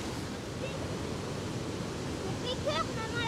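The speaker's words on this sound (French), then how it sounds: "Et ici, c'est la Baker. La belle cascade" The Baker river waterfall roars as a broad, continuous rush of water, loud and steady with wind noise mixed in, and brief high voices or chirps break through near the end.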